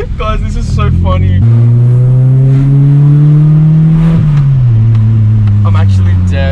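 Daily-driver car fitted with a cheap $50 exhaust revs with a deep, droning tone, the pitch climbing steadily then dropping as it eases off, loud and close, with voices chatting at the start and end.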